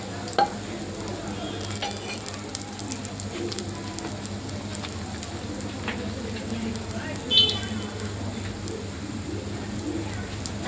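Pickle masala with salt, asafoetida and a splash of vinegar is stirred in a sizzling pan. A steady, faint frying hiss runs throughout, with light scraping from the stirring and one brief clink.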